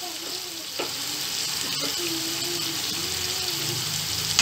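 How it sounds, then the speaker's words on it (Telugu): Pumpkin pieces cooking in a covered pan for pumpkin halwa give a steady, close sizzle and bubbling hiss with a few soft clicks, continuous throughout. "ఇప్పుడు ఈ గుమ్మడికాయ ముక్కలని ఒక పైన ప్లేట్ ఉంచి 10 నిమిషాల పాటు ఉడికించుకోవాలి"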